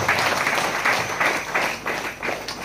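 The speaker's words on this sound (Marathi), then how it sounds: "आपण पण जोरात टाळ्या वाजवून प्रभू येशूचे आभार मानायचे आहे" A church congregation claps loudly in thanks at a prayer gathering, a dense continuous burst of many hands with rhythmic swells, close and full throughout.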